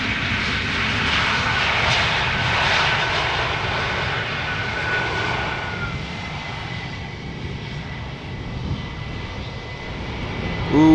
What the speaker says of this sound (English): Speedbird flight 430, arriving from London Heathrow, up next